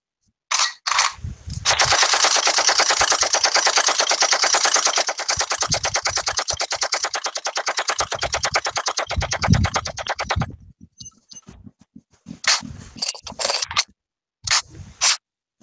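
A machine gun sound effect fires a long continuous burst, then stops for metallic reload clicks and clacks, followed by a few short bursts, all loud and close.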